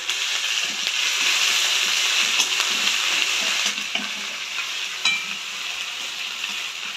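Ginger fries in a pan for vegetarian dhokar dalna with a steady, close sizzle and occasional soft stirring knocks.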